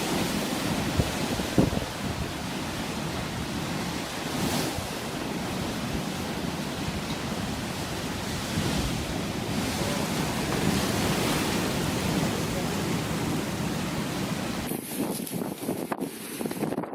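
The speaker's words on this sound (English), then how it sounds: "A pier in North Yorkshire gets overwhelmed by the dominant sea." Heavy sea surf pounds and overwhelms a pier on the North Yorkshire coast, a continuous loud roar of breaking waves with gusting wind buffeting the microphone, rising in surges and briefly cutting out near the end.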